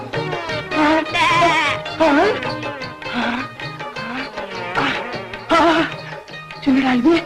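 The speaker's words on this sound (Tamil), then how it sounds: "யாரு வளர்க்குற ஆட்டுக்குட்டியோ பாவம், மந்தியில இருந்து ஓடி வந்திருக்கும்" A runaway lamb bleats repeatedly and loudly, its cries coming in close, wavering bursts, with no talk over them.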